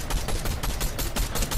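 Rapid bursts of automatic gunfire in a shooter video game, loud and continuous, fired at a tree used as cover.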